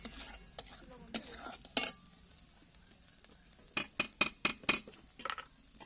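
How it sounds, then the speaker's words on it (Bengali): Spice masala with a little sugar is sautéed in a pan, a low sizzle under a few scattered spatula knocks, then a quick run of sharp scraping strokes against the metal. "দিয়ে ভালোভাবে মশলাটাকে কষিয়ে নিতে হবে"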